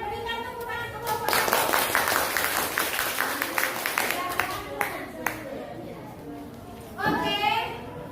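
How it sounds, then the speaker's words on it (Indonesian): A classroom of students applauds a student group, with a burst of clapping rising after a brief start, then thinning into scattered claps under children's voices and chatter. "silakan berikan tepuk tangan ke kelompok"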